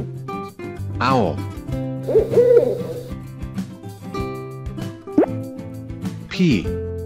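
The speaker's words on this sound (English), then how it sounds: "Owl." An owl gives a few soft, low hoots mid-clip over gentle background music, with a voice speaking around them.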